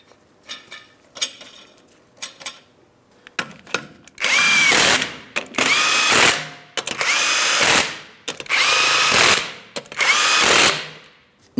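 Power tool runs down 21 mm lug nuts on a 2015-2025 Ford Transit 250 wheel, a few light ratcheting clicks then six loud, close whirring bursts in an even rhythm.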